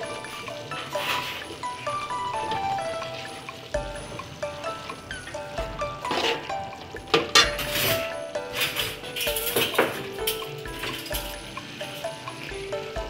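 Carrots go into a pan with cooking pork and beef steak for a Chinese-style stir-fry with vegetables, giving clinks of utensils against the pan and scattered clattering over a soft sizzle.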